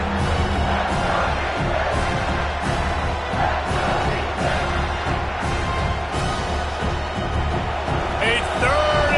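Football stadium crowd at an Alabama–Nebraska game, a loud sustained roar of cheering under a commentator's voice, swelling in waves throughout.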